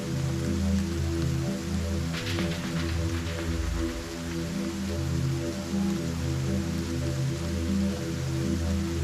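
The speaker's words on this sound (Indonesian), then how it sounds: "hujan deras disertai angin kencang melanda hampir sebagian ibu kota Jakarta" Heavy rain lashes Jakarta in strong wind, making a dense, constant hiss that never lets up, with a low, steady droning hum running beneath it.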